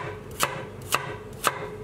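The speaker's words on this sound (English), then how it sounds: "And we just want to chop this into small pieces." A knife chops vegetables into small pieces on a cutting board for Egyptian red lentil soup, with three evenly spaced, crisp chops close by and no talking.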